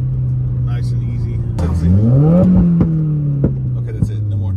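A Subaru WRX running with its entire exhaust removed revs loudly and raw, the engine note climbing through a couple of quick blips before settling back to a steady, droning idle.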